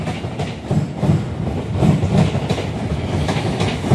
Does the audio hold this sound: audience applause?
no